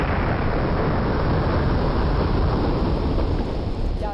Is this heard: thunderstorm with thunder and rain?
yes